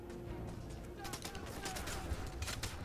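Sniper and gunfire shots ring out in the video game Wanted: Weapons of Fate, a steady mix of sharp cracks over a busy game soundscape, with a voice talking briefly alongside.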